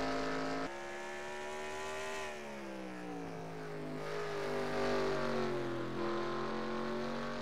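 A race car engine at Watkins Glen International roars steadily down the front stretch, its pitch sliding lower as it passes and fades, loud and continuous throughout.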